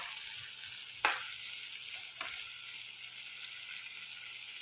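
Shrimp fry in garlic butter in a pan with a constant soft hissing sizzle, broken by two sharp taps of a utensil as the shrimp are stirred, fairly quiet and close.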